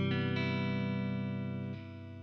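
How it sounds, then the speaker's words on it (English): A Voland Rusty Boi pedal adds dense distortion to a sustained electric guitar chord that rings steadily, then shifts lower and thins slightly near the end. "we'll see the type of distortion that it will get us"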